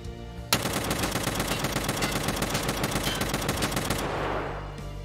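An M1A rifle in the video game Escape From Tarkov fired from a standing position inside the hideout, a loud rapid string of evenly spaced shots for several seconds, then a fading echo tail.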